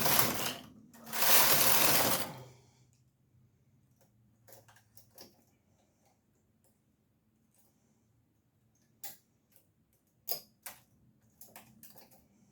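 A knitting machine carriage sweeps across the yarn in two loud, rushing passes. Quieter mechanical clicks and ratcheting taps follow in near-silence.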